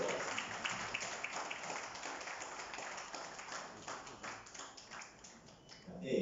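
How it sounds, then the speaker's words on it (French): An audience at a lottery launch event in Mauritius applauds, a steady, moderately loud patter of many hands clapping together with a bit of voice mixed in. "On peut applaudir Virginie s'il vous plaît."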